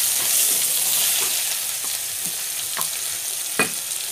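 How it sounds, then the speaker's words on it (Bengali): Chopped onion and nigella seeds fry in hot oil for a Bengali grey mullet curry, giving a close, steady sizzle with a few sharp crackles and light stirring taps. "পেঁয়াজটা আমার ভাজা হয়ে গেছে"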